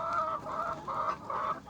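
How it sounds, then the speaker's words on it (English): Chickens cluck in a rhythmic series of soft, repeated calls inside a chicken house with deep bedding, heard fairly quietly and close. "So I'm in the chicken house."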